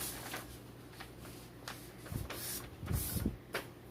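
A printed cross-stitch pattern sheet is folded by hand, papery rustles and crinkles building in a few bursts, close up and moderately loud with no speech.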